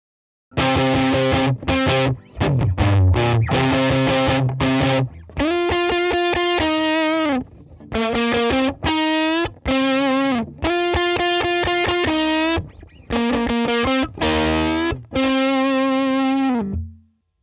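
Fuzzy, saturated electric guitar notes and chords played through a De Cillia Single 25 tube amp with no fuzz pedal, loud and close, in short phrases separated by brief pauses.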